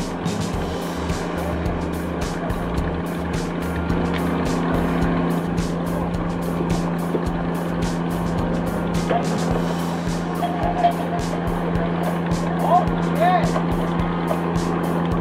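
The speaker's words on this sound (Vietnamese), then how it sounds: "Xem tàu cá lưới rút chạy nha anh em." A Vietnamese net fishing boat's engine runs in a steady low rumble throughout, with a continuous hum, knocking and clatter over it and occasional voices in the background.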